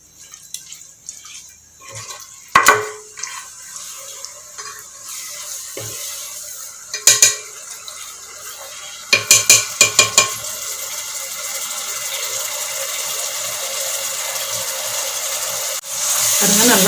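A spoon clanks against a pot while an egg biryani mixture is stirred, with scattered metallic knocks, then a steady, rising hiss and bubbling as it comes to a boil.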